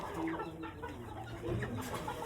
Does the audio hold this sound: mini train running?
no